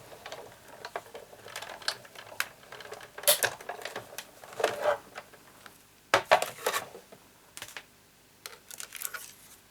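Card stock being cut for a Stampin' Up! Santa card, producing a quiet series of crisp clicks, scrapes and slicing strokes at an irregular pace, close up, with no voices.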